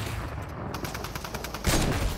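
Gunfire in a first-person shooter match, a burst of rapid shots at moderate distance ending in a louder close report.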